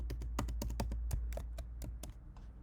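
Typing a password on a computer keyboard gives a quick, irregular run of crisp key taps up close, with a faint steady hum underneath and no talking.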